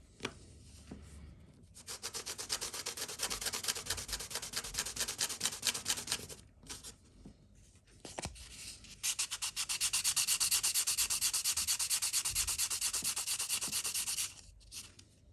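A small cleaning pad is rubbed over the back case of an 1980s Casio watch, making close, raspy scrubbing strokes in long sustained bursts with brief pauses between them.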